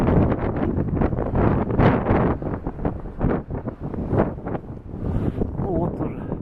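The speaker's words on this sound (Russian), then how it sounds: "Да, ветер сильно задувает очень." Strong wind blows hard across a small square in Baltiysk, buffeting the microphone with gusty, rumbling bursts throughout. Someone talks over the wind at close range.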